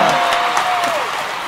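A studio audience claps and cheers in a steady, loud wash of applause from a crowd close by.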